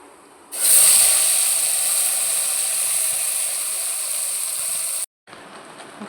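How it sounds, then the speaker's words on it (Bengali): Mashed mixed-vegetable paste hits hot tempering oil with a sudden loud sizzle and hiss that holds steady for about four seconds, then cuts out briefly before a quieter sizzle resumes. "এবার এটা ফোড়নে দেবো"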